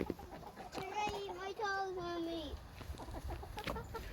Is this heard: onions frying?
no